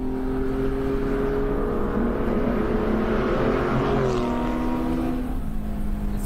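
A Porsche engine roars at high revs, pitch sweeping up and down as it pulls hard and then eases near the end. The sound is loud and close, a dense continuous snarl with no voices.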